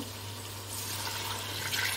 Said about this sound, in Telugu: ఇప్పుడు వాటర్ అయితే వేసేసుకుంటున్నాను